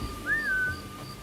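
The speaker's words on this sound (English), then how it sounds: "I wonder if I can get this guy to hear the whistle." A single short whistle in the video game Assassin's Creed Mirage, a quick rising then gently falling tone, clear over quiet ambient background with no talking.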